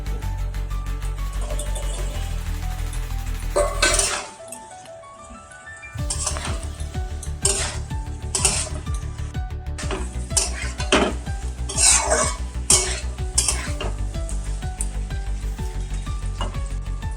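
Masala sizzles loudly in hot oil while boiled chickpeas are stirred in, with repeated close spatula scrapes and clinks against the pan and a brief lull before frying resumes.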